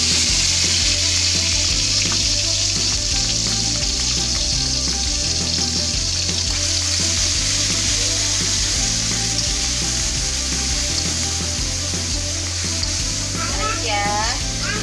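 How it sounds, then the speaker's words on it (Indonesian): Ground spice paste hits hot oil in a wok and sizzles loudly and steadily throughout, with stirring scrapes and a faint trickle of water near the end. "Ini udah panas ya, langsung aja masuk bumbu halusnya."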